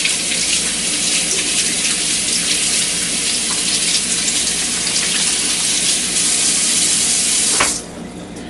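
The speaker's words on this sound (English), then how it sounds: "Give my hands a quick wash." Hands are washed under a running kitchen tap during bread baking, a steady bright gush of water with small splashes that cuts off abruptly near the end, leaving a quiet hum.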